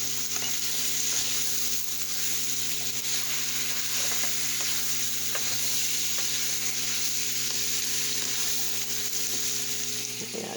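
Crushed peppers sizzling steadily in a pan of pepper steak sauce, a loud continuous frying hiss with faint stirring clicks and no pauses.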